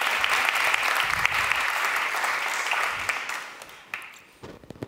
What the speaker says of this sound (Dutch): ik wil graag een warm applaus voor Willem Verwerda, onze eerste spreker